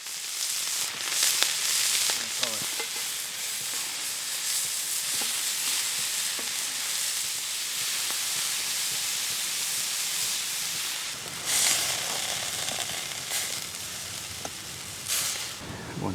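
Slices of leftover steak sizzle and fry steadily in a pan at a cold-weather camp, a continuous bright hiss with occasional louder crackling bursts, close and unaccompanied by talk.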